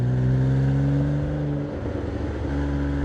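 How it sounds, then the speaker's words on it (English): A Porsche 987 Boxster engine drones in fourth gear while driving. The engine note is close, loud and steady, dipping briefly in the middle before settling back into an even hum. "the noise that you get through this engine"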